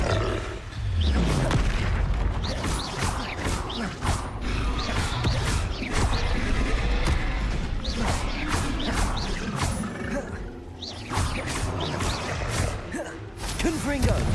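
Blasting spell explosions from the Hogwarts Legacy video game, repeated booming impacts and roaring bursts in a dense, loud, continuous stretch of combat with rumbling effects throughout.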